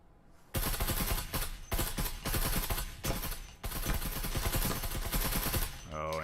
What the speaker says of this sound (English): some blind fire catching Decay there